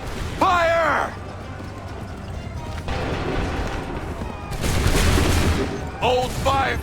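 Soldiers fire a musket volley on an 18th-century battlefield in Assassin's Creed III: a loud, sustained crackle of many shots with battle noise, under shouted voices.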